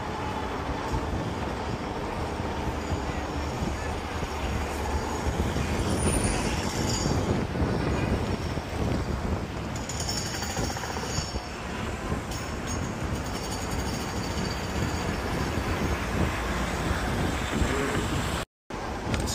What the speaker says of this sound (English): There is a train next to me.